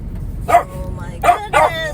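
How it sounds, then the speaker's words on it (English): A dog barks three times close by, short sharp yips spaced about a second apart over a low background hum. "sorry for the barking."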